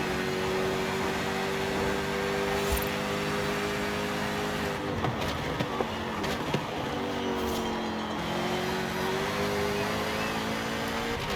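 Jaguar SVR sports car engine in Forza Horizon 5, a sustained drone that dips and rises in pitch mid-drive as it shifts and accelerates again, alone without speech.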